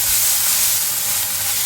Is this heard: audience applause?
no